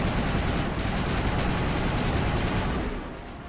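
Dense, continuous gunfire from a retro video game roars loudly and steadily as a rapid barrage of shots that blends into a rumbling wall of noise, easing off slightly near the end.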